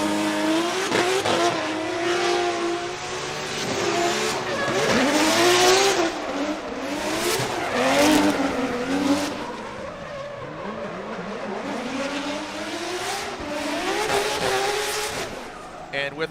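Formula Drift Top 32 battle at Long Beach, Round 7: drift cars scream through a turn with sustained tire squeal and revving engines, loud and continuous, with a commentator talking over the action.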